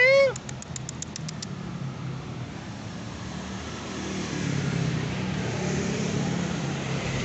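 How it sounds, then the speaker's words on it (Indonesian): A Persian-mix cat gives a single short meow at the start. Steady road traffic by the street follows and grows louder toward the end. "Di sini tuh ada beberapa ekor kucing sih."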